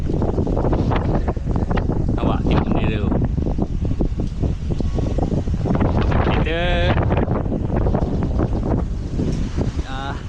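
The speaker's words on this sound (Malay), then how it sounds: "Angin kuat guys" Strong wind roars across the microphone throughout on a wet mountain-bike trail ride at Bukit Kiara, loud and constant, while people talk and a whistling or squealing sound cuts in briefly.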